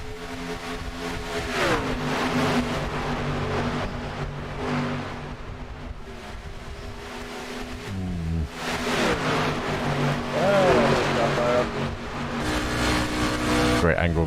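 Race cars in the iRacing sim racing game roar continuously, engines droning and shifting pitch as they run close together, steady and loud throughout with talk layered over the top.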